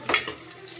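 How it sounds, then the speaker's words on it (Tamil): Mustard seeds hit hot oil in a pan with a quick, soft sputtering burst, two brief crackling pops and then a faint fading sizzle, close and quiet. "எண்ணெய் ஊற்றி கடுகு போட்டு"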